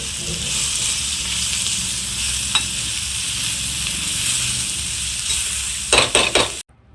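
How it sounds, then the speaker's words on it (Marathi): Turmeric and red chili powder are stirred with a utensil through chopped tomato sizzling in a pan, a steady close frying hiss throughout, ending in a few scraping strokes before stopping. "त्यानंतर त्यामध्ये थोडी हळद, लाल तिखट एकजीव करून घेऊया"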